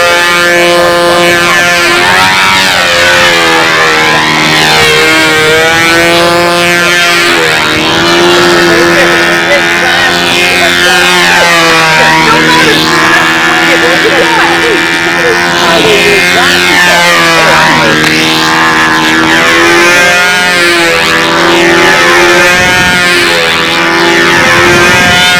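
Loud model airplane engine screaming continuously at the model aircraft nationals, its whining pitch rising and falling as the plane flies, with a voice talking underneath.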